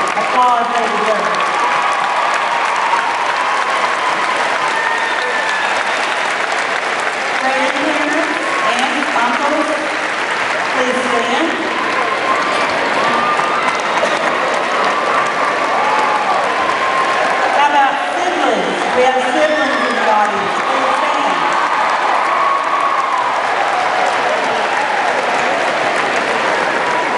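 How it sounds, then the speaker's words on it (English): A high school graduation crowd applauds the parents, a long, broad wash of clapping and some cheering that holds steady throughout, with voices murmuring and calling out beneath it. "Students, give your parents the applause they deserve."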